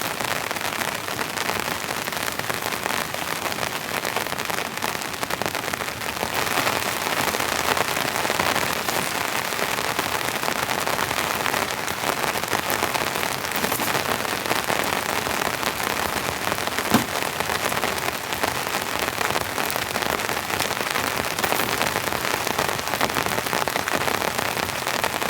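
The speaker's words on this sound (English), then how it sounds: "Coming down with full power now. Heavy rain. Borderline deluge." Heavy rain pounding down on a winter camping tent, a dense continuous hiss and patter that stays loud and even throughout, with scattered sharper drops and no talking.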